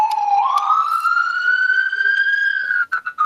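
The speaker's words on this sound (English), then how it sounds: "We have an ambulance on your back, I believe." Ambulance siren passing on a city street in Newport Beach, California, a loud rising wail that climbs and holds steady before breaking off into choppy bursts at the end.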